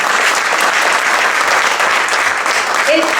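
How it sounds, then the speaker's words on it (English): Loud, steady applause from an audience at a university ceremony inaugurating a school of artificial intelligence, sustained throughout with a voice briefly over the end. "this is a very tame applause for what they did"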